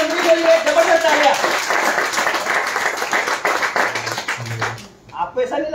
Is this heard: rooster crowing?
no